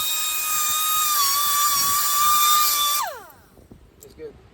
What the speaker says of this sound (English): That's just a carbide cutter. It just helps get some of that corrosion out of the way.